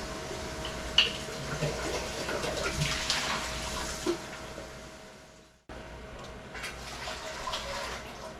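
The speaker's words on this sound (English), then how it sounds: "I am going to get some water in my pot." Tap water running into a cooking pot in a home kitchen, a steady splashing flow with a short break partway through before it resumes, close and moderately loud.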